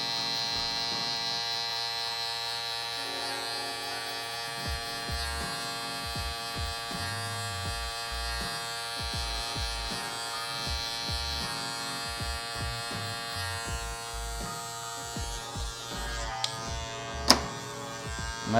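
Andis electric hair clippers with no guard, lever fully open, trim a beard in a close, steady buzzing hum with small dips and bumps as the blade moves, no talking.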